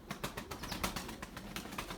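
A white male tumbler pigeon flying alone beats its wings in a quick series of sharp, rhythmic flaps and claps, close and fairly loud with no voices.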